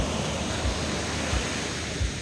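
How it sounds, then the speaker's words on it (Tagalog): Strong sea surf near an island where banana boat rides run, heard as a steady broad roar of rough water with low thuds of waves breaking roughly every two-thirds of a second, no voices. "Malakas ang alon eh."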